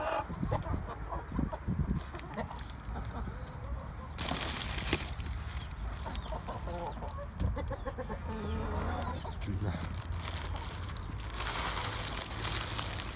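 Broody hens in a village coop clucking as feed is thrown to them, with soft continuous clucks and fowl calls near and far, rustling and movement throughout, and a voice speaking now and then.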